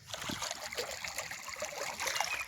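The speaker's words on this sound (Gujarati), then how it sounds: "ખાતર નાખીને પાણી વાળીએ છીએ" Irrigation water trickling and flowing along a channel in a wheat and cumin field in the early morning, a soft continuous gurgle heard on its own.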